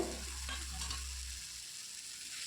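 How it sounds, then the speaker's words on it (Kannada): Grated beetroot sautéed and stirred in a pan for beetroot palya, a steady close sizzle of frying with soft scraping stir strokes throughout, no talking. "ತುರಿದಿರೋ ಬೀಟ್ರೋಟ್ ಹಾಕಿ ಇದು ಸಹ ನಾವು ಚೆನ್ನಾಗಿ ಹಸಿ ವಾಸನೆ ಹೋಗೋವರೆಗೂ ನಾವು ಚೆನ್ನಾಗಿ ಬಾಡಿಸ್ಕೋಬೇಕಾಗತ್ತೆ"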